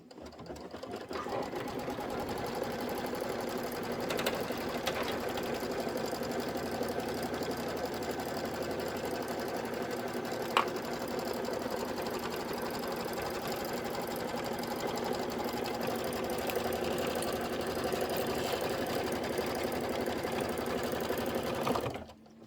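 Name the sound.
embroidery machine stitching the back fabric tack-down line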